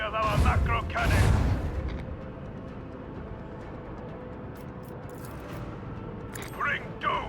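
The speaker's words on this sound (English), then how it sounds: "Show them the fury of our macro cannons!" Macro cannons fire in the space combat of Warhammer 40k Rogue Trader, two heavy booming blasts up front fading into a low rumbling wash, with a few more impacts near the end.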